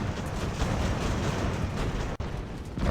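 Cannon and artillery fire in a naval battle from the Ultimate Admiral: Age of Sail game, a dense rumbling barrage of booms with one sharp crack near the end, no talking.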